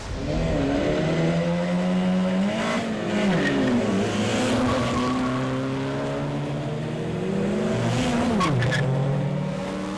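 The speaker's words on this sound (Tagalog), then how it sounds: "ang paglaganap ng iligal na karera ng mga sasakyan." Cars in an illegal street race rev their engines hard, rising and falling through gears with some tire squeal, loud and continuous across the whole stretch, with no talk.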